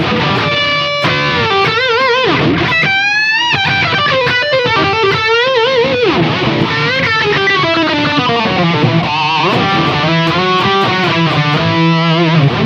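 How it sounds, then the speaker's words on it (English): Electric guitar through a Kemper Profiler profile of a Gallien-Krueger 250 amp plays melodic lines with long echoing delay and reverb tails, notes bending and sustaining loudly without any talking. "That one just got some delay and reverb in there and a little bit of studio equalizer."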